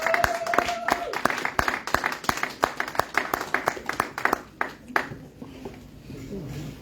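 Congregation in a church clapping and applauding to acclaim the Lord, with many sharp, rhythmic claps in a steady beat that fade out near the end, and voices rising beneath them.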